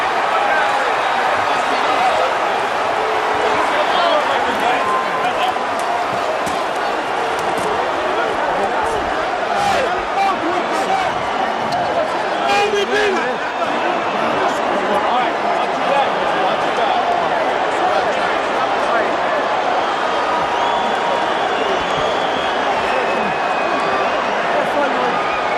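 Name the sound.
stunned boxing arena crowd at the MCI Center, Washington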